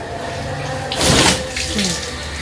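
Water gushes from a hose pipe onto clothes being washed in a drum, a steady splashing wash with a louder surge in the middle, close by.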